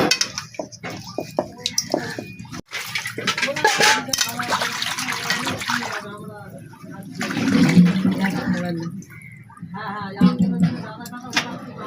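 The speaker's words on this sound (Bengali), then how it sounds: "তোমরাও যখন মাছটা ধোবে তখন ভালো করে নুন দিয়ে পরিষ্কার করে ধোবে" Salted fish being washed clean by hand in water in a kitchen, with sloshing, splashing and dripping, a few clinks of a pot or dish, and a running-water rush, all close and moderately loud.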